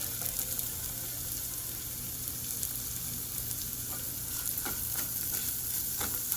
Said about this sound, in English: Now I'm going to add one small chopped onion and fry it.